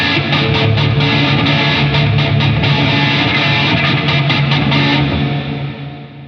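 A high-gain, heavily distorted electric guitar plays through a Positive Grid Bias Amp 2 model with built-in reverb, loud and dense with sustained chords, then fades out with a reverb tail at the end.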